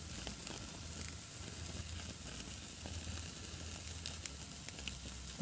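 Steaks sizzle steadily in a pan, a constant close hiss of frying fat running throughout with small crackles and no talking.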